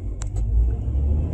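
A car drives along a road with all lanes of traffic around it, a low steady rumble of engine and tires from inside the cabin, broken early by two short high clicks, no voices.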